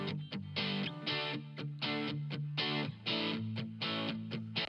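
Electric guitar run through the free TAL Reverb 4 plugin set to a short reverb, playing a rhythmic pattern of chopped, sustained chords in bursts with brief gaps between them.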